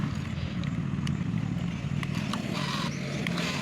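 A Swaraj tractor creeps slowly forward with a weak battery, its engine a steady low rumble with faint clattering, continuous and fairly close throughout.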